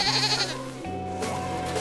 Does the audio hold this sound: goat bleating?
yes